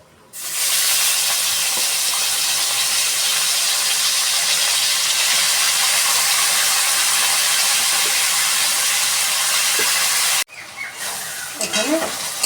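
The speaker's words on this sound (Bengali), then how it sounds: "কড়াই আলু দিয়ে দিচ্ছি" Potatoes drop into hot oil in a wok and set off a loud, steady, hissing sizzle. The sizzle holds for about ten seconds, then cuts off abruptly and leaves softer clatter and stirring sounds.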